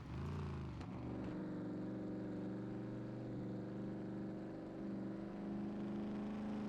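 A car engine in the survival video game Scum drones in third gear, a loud, steady engine hum that holds at one pitch throughout.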